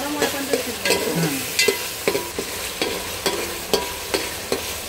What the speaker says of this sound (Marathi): टोमॅटो नरम होईपर्यंत शिजवायचं.